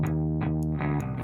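Bass synth with distortion added, a thick buzzing sustained note broken into a few gritty pulses with harsh upper fizz, loud and alone.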